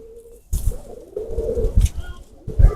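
Big breeder Ababeel pigeons coo up close in short, throaty bursts, several soft calls overlapping with light rustling between them.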